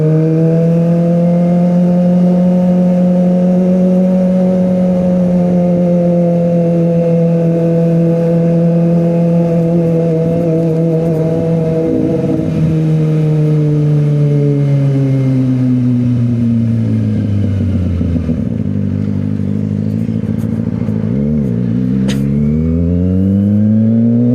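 A Kawasaki ZX motorcycle engine revs loud and close, its tone holding steady before dropping and swooping through several sharp throttle blips near the end, with no talking.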